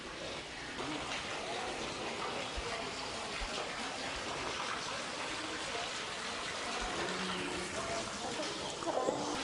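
Water pours continuously from a pipe set in the mouth of a stone Nandi at the Someshwara temple in Kolanupaka, a steady, fairly soft gushing and splashing with no breaks.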